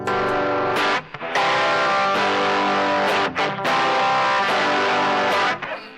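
Electric guitar through a RAT distortion pedal feeding a virtual amp, loud fuzzy sustained chords with a few brief breaks between them, close and alone with no talk.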